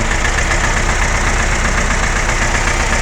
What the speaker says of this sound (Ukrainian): з тракторцем і копалочкою копаю картошку